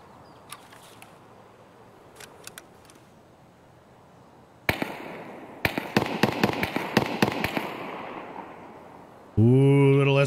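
Gunfire in Escape From Tarkov: a few faint distant shots at first, then a burst of sharp close reports in quick succession, followed by a loud sustained tonal sound at the very end.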